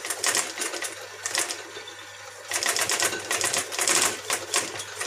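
A sewing machine stitches a PVC tarp hem in a saddlery workshop, running in steady bursts with a brief pause midway, close and fairly loud with no talk.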